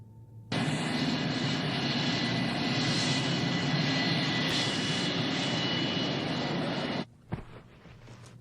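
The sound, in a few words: airplane jet engine before takeoff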